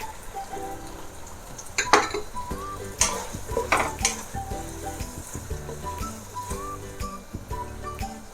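Carrots tossed into a pan of softened chicken for spaghetti, with scraping stirs, metal utensil clinks and a few sharp knocks against the pan over a low cooking hum, steady and close throughout.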